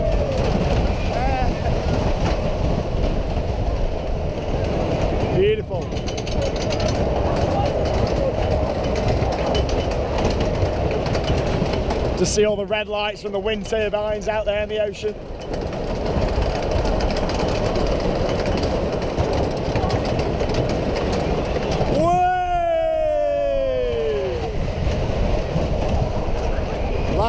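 Roller coaster train at Great Yarmouth Pleasure Beach rumbling steadily along its track, a loud continuous clatter of wheels on rails throughout, with a person talking over the ride noise in between.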